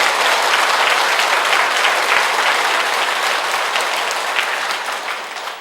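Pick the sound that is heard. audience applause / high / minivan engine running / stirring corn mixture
audience applause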